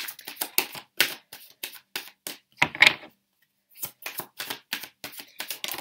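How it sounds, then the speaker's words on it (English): Rapid bursts of crisp tarot card shuffling, close and clear, pausing briefly before the riffling resumes in quick, rhythmic flicks. "let me just do this so I'm not looking at the cards whilst I shuffle"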